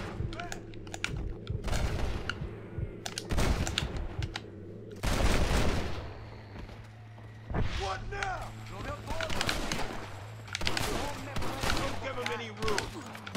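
A rifle, a carbine, and other Wild West guns fire in Red Dead Redemption as loud, sharp bursts of shots spaced unevenly, with French-speaking voices talking over and between the shots.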